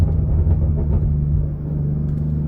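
A BMW X3 M40i with an MHD stage 2+ tune in sport plus mode gives a deep, steady exhaust rumble, loud and continuous with no talking.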